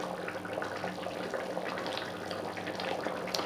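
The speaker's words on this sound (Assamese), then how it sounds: "খুব ধুনীয়াকৈ উতলিছে।" Tomatoes boil in a pot of water, a steady close bubbling and churning that runs unbroken and evenly loud throughout, with no voices.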